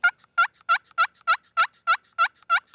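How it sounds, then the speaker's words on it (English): A push button turkey call gives a rapid series of about nine evenly spaced, sharp yelps, loud and close, with nothing else heard. "I really recommend a push button call."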